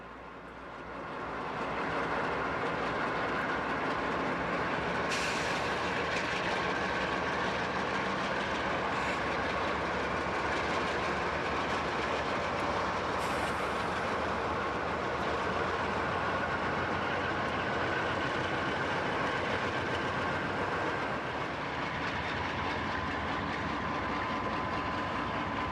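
A freight train on the Tennessee Pass route, with helper locomotives cut into the rear portion, pulls forward in a steady, broad rumble of engines and rolling cars, with occasional high squeals; sustained and moderately distant, no voices.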